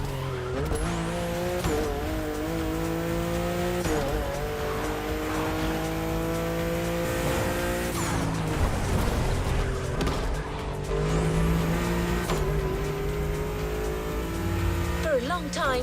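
A car drifting in the racing game The Crew Motorfest, with steady engine drone and long tire squeal sweeps under continuous background music.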